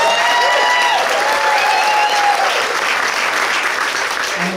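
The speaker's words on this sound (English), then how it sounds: "let's get a round of applause" Rally crowd in Goochland clapping loudly and steadily, the continuous applause mixed with a few whistles and faint cheers.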